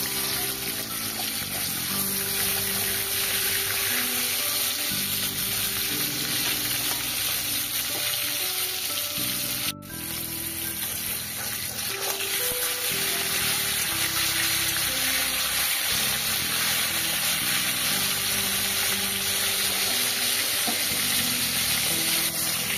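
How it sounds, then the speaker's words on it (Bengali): Pieces of rohu fish fry in mustard oil in a wok, giving a steady, loud, continuous sizzle and crackle with no pauses and no talking. "কড়াইতে সর্ষের তেল বসিয়ে দিয়েছি, এবার এক এক করে মাছগুলো দিয়ে দেব"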